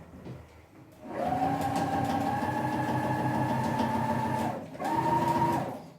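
A sewing machine runs steadily while stitching around a cushion cover, a continuous loud mechanical whir that pauses briefly near the end before resuming.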